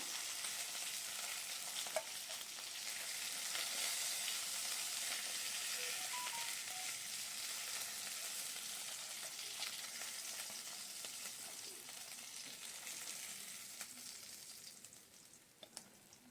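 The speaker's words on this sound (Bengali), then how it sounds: "এবার ওই তেলটার মধ্যে আমি কয়েকটা বড়ি ভেজে নেব" Lentil dumplings (bori) fry in oil left over from frying rohu fish. A soft, continuous sizzle holds for the length of the clip and fades slightly near the end, with a few faint clicks.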